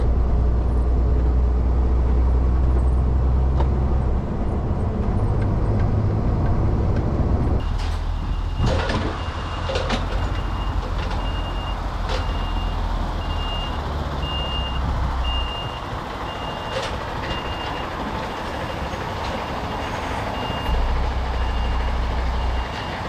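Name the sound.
truck reversing and parking a trailer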